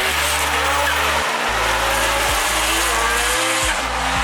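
Drift cars at Nikko circuit, including a four-rotor machine of around 1,000 horsepower, roar loudly with continuous squealing tires, their engine notes dropping and surging in rhythm as they slide close by.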